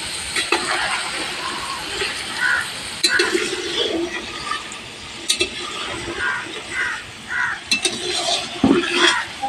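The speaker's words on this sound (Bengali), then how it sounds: "এখানে সব সবজি ভেজে ভেজে নিয়ে নিচ্ছি।" Vegetables fry in a large pan for a big festival meal cooked for a hundred people, with steady sizzling broken by scraping stirs and occasional clinks of metal utensils, and a voice speaking intermittently over the cooking.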